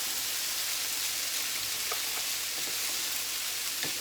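Vegetables and noodles for yakisoba stir-frying in a hot pan, making a continuous loud sizzle with a few soft stirring clicks.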